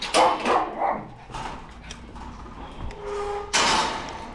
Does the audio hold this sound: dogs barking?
yes